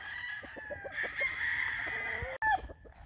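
A lemon-coloured rooster with a straight comb and yellow legs crows on a mountain farm, one long drawn-out call standing clearly above soft background noise, followed by a short clucking sound.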